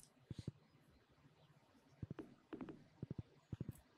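Horse hooves in Stardew Valley sound in short bursts of three or four quick, close clip-clops separated by brief pauses, fairly quiet against a soft background.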